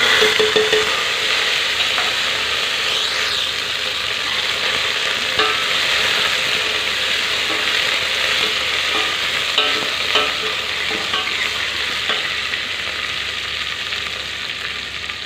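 Chopped ginger and curry leaves fry in a pot, giving a steady, close sizzle with faint stirring scrapes throughout and no talking.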